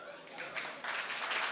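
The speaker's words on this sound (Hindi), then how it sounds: "तालियाँ।" An audience at a music session of a 2020 literary festival breaks into applause, a soft patter of clapping that swells after a moment, with speech faintly underneath.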